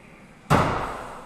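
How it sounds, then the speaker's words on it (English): A picture falling off the wall next door lands with one sudden heavy thud, like a slam, muffled through the wall, its rumble fading over the following second with no voices. "That's the picture falling off next door's wall."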